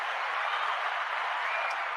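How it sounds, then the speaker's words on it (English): Audience applause at a talk, a soft, even wash of many hands clapping at a distance, steady for a couple of seconds with no voices over it. "So we can go ahead and clap that up"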